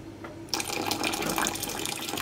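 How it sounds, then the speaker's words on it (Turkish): Water pours steadily from a tap or jug into a pot of simmering Ezo Gelin soup, a close, continuous splashing stream that begins abruptly and runs to the end. "Ben birazcık daha su katacağım."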